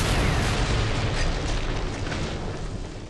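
A breach charge detonates in a tactical shooter, Terrorist Hunt or Team Deathmatch style, giving a loud, dense rumbling blast that fills the whole moment and slowly decays with heavy low-end roar.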